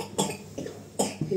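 A child gives a quick series of four short, close coughs in a quiet room, evenly spaced and fairly soft.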